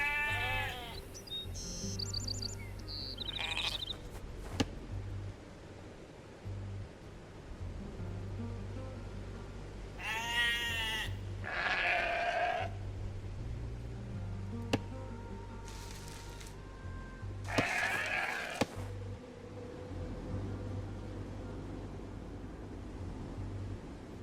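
Sheep bleating in the Age of Empires 2 video game on Xbox Series X, several separate bleats scattered over a steady low game ambience with other interface and game sounds.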